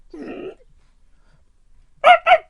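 A human voice imitates a dog barking, close and clear: one drawn-out bark-like call, a short silence, then two quick sharp barks in a row.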